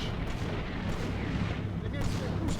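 Dense, continuous rumbling gunfire and artillery from the World War II tactical game Combat Mission Fire and Rubble, set in Poland in 1945, forms a heavy, steady barrage with no pauses.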